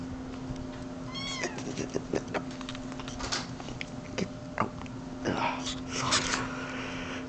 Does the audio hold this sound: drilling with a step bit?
no